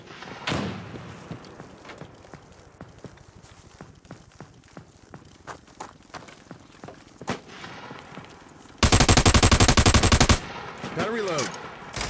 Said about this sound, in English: Tossing frag.